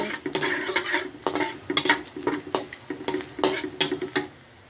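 Food fries in a pan until golden brown, with a steady close sizzle broken by repeated scraping and stirring clinks of a utensil against the pan.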